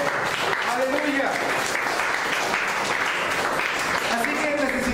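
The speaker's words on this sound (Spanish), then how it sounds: "Den otra ofrenda fuerte de palmas a Él." A church congregation claps loudly and continuously, a dense, steady wash of applause that fills the room, with a voice speaking over it.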